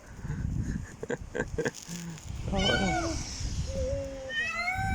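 A cat meows several times, drawn-out rising and falling cries close by, with people talking and rustling noises before them, outdoors in the snow in Istanbul.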